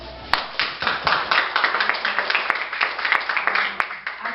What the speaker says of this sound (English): Shall we give everybody a resounding applause?